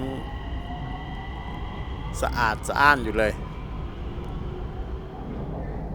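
The cabin of a Bangkok Purple Line electric train carries a steady low rumbling hum throughout, while someone talks briefly over it.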